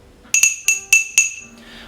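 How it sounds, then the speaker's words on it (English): A chilled martini glass set down and slid aside on a bar surface, giving five bright, ringing clinks in quick uneven succession, close and clear, fading to quiet. "So chill martini glass out of the way."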